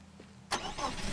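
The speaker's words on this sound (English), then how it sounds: "Let me just move this car." Car engine starting in the video game Teardown: a sudden loud crank at about half a second, then the engine catches and runs at a rough idle, close and clear with no talking.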